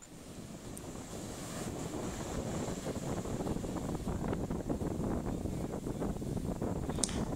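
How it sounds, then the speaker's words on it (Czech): Ocean waves rolling onto a chilly Portuguese beach make a soft, continuous wash, with light wind rumbling across the microphone; the surf stays fairly distant and even throughout. "A krásné vlny."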